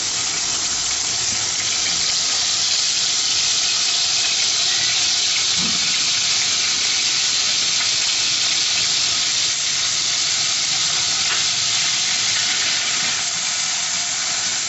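Ginger-garlic paste fries in hot oil in a karahi, giving a steady, loud, unbroken hiss and sizzle that runs the whole time with no talking.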